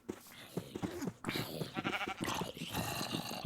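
Sheep in the video game TerraFirmaCraft bleat repeatedly at close range, a string of wavering calls that overlap with busy game sounds.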